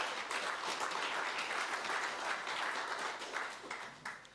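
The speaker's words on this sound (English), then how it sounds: "let's give Samkelo a round of applause" Applause from the audience at a university sports gala: a sustained wash of many hands clapping, moderately distant and fairly quiet, with no speech over it and a slight tail-off at the end.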